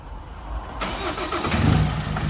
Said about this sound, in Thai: เอา สตาร์ทเครื่องยนต์ดู